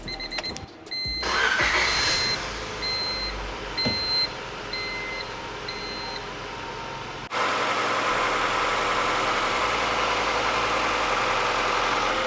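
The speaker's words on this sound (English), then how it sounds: "start up the car so you guys can hear how beautiful the engine" A 147,000-mile Honda EM1 with its B16A engine, heard from close by: electronic chimes and a starting clunk, then the engine settles into a steady, even idle.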